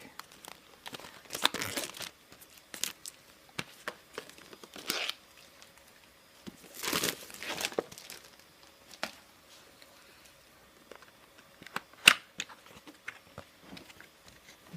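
Plastic packaging around a Freevision Vilta SE phone gimbal crinkles and rustles close by in uneven bursts, loud crackling handfuls broken by quieter pauses, with no talking.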